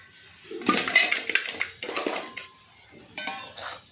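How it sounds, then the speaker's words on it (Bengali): A metal lid lifted off a pot of cooking leafy greens, giving a few close clanks and scrapes of metal on metal with short pauses between them. "এবারে আমি ঢাকনাটা খুলে নিচ্ছি।"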